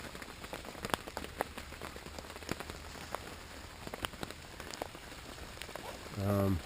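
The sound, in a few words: rain on tent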